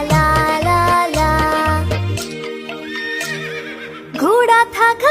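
A horse neighs loudly and close by in a long whinny. Hooves clip-clop in a steady rhythm, then a second, rising whinny follows near the end.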